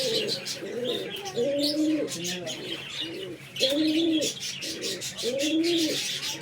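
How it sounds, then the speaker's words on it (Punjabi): A spirited flying pigeon coos in repeated rolling phrases, close and clear, with several distinct coo bursts spaced a second or two apart over faint background chatter. "ਚੈੱਕ ਕਰੋ ਜੀ, ਬੜਾ ਅਥਰਾ ਕਬੂਤਰ ਹੈ"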